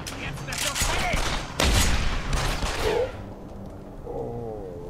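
Gunfire in the video game Deus Ex: Human Revolution: a few loud sharp shots and bursts in the first three seconds, then quieter game ambience with faint chatter.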